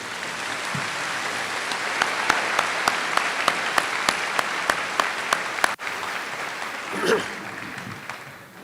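A crowd at a high school graduation ceremony applauds steadily for several seconds, dense clapping with a few sharper claps standing out, then tapering off near the end.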